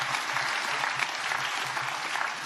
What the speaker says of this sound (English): And if you can repeat your applause again,